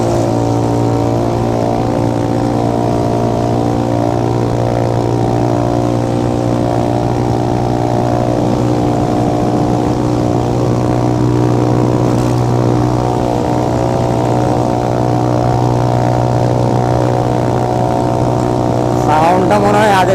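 Steady motorcycle exhaust drone while riding, a loud continuous engine note with a low rumble and even harmonics that rise slightly near the end, with wind noise and no talk over it.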